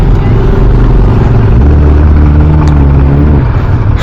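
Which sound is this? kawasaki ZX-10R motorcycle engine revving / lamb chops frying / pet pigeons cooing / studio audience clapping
kawasaki ZX-10R motorcycle engine revving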